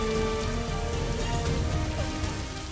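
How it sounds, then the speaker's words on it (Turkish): Steady rain falls on a surface, a dense even patter of drops that stays loud and constant throughout, with no voices. "And the rain mixes up with Melanie's tears"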